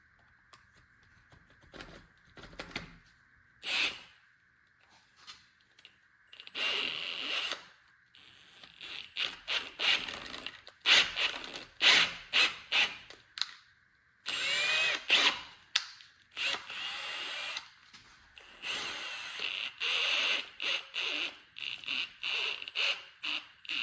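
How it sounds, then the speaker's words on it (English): A drill bit bores into aluminum through a bushing, lubricated with cutting oil and WD-40, during a half-inch head stud upgrade. Short, uneven bursts of whirring cut in and out with brief pauses, close and fairly loud, with no talking. "and just drill it to depth"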